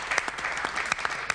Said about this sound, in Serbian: Dajte jedan aplauz.